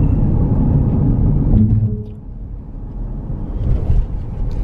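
A car rolling slowly at about 30 along a narrow road near Egilsstaðir in Iceland, giving way to wider oncoming cars near an old bridge; a steady low engine and road rumble heard from inside the cabin.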